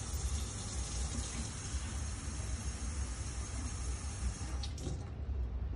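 Water pours steadily into a mixing bowl while making salt dough, a continuous close gushing splash lasting several seconds with no talking over it.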